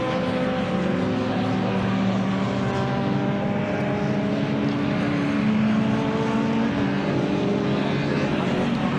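Race cars at speed on the Donington Park circuit, among them a Honda Civic and a Renault 5 Turbo, a loud sustained engine roar with shifting pitch as the cars pass close by.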